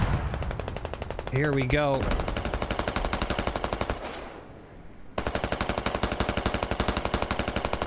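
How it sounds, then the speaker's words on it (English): Sustained rapid automatic gunfire from a military video game firefight, with an Abrams tank and a BMP giving supporting fire: a loud, dense rattle that runs nearly throughout, breaks briefly mid-clip, then resumes, with a rising whine and a few spoken words over it. "Abrams, some good supporting fire here. BMP as well."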